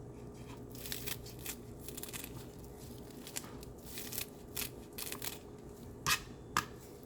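A knife chops sausage and green onions on a cutting board, faint irregular taps and crunches that come more sharply near the end over a quiet room background.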